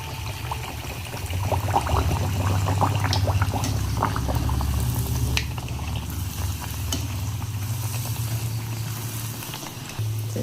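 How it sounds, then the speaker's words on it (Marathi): Bun dough slipping into hot frying oil sets off a steady, close sizzle that holds at an even loudness throughout, with light crackling spatter on top. "तेल बरें तापलो हा आतां घालता"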